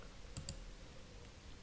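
A few quiet computer-mouse clicks while working in a Microsoft Excel spreadsheet: a quick pair, then a single click after a pause, over a soft steady room hiss.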